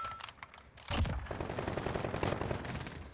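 Gunfire in the video game Warzone, a dense burst of rapid shots and impacts following a brief quiet lead-in, loud and continuous for about two seconds.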